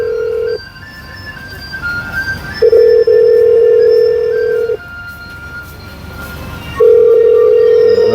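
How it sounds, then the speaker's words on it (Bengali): An IP telephone call rings out as a repeating electronic ringback tone: three steady bursts separated by quieter gaps, clear and prominent over a low background hum. "এখানে রিং হচ্ছে আপনারা দেখতে পাচ্ছেন"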